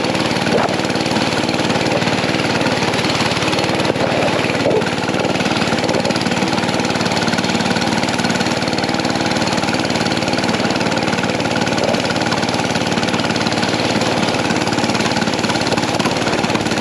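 A mini bike engine runs steadily at night while towing a sled, a loud, continuous buzzing drone that holds at a constant roar with no pauses and no voices.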